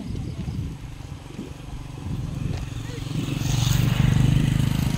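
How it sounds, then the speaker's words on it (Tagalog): A motorcycle approaches along a path during an evening walk, its engine hum rising from faint to louder over several seconds, with voices talking faintly in the background. "Yung motor"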